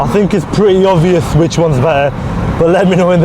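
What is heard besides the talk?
No everyday noise stands out behind the speech.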